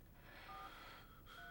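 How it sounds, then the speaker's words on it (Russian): A telephone number being dialed: two quiet dual-tone keypad beeps, evenly spaced, over a faint background hiss. "Ты знаешь, кому я звоню, да?"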